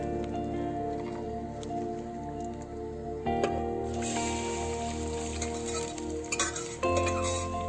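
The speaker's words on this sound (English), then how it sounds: "Now we will add the puree into it." Puree goes into hot oil with ginger and garlic for a traditional Kumaoni dish, producing a continuous close sizzle broken by wet stirring and squishing. It is moderately loud, with no talk over it.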